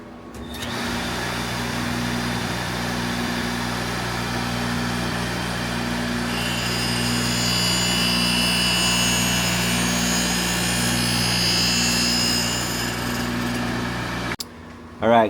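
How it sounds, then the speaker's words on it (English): A bedknife grinding machine works the top face of a thick new mower bedknife with a steady loud mechanical drone and a rising metallic whine, running unbroken for about fourteen seconds before cutting off. "we just finished grinding the top face and I'm looking at it and everything has been ground."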